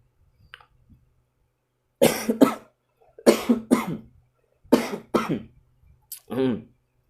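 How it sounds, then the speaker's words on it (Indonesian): Several sharp, close coughs in quick bursts with short silent gaps, ending with a throat-clearing sound. "Sedikit batuk."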